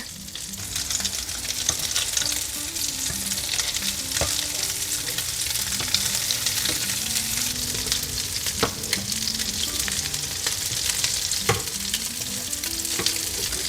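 Tuna and egg patties frying in a pan, a steady close sizzle and crackle that holds throughout, with a few light clicks of utensils and no talking.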